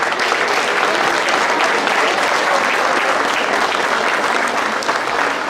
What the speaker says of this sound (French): je voudrais qu'on les applaudisse encore